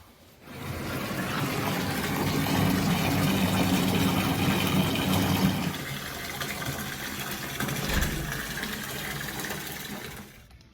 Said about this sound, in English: I've got a submersible pump, like a sump pump, that I can just drop in there and run water out to my yard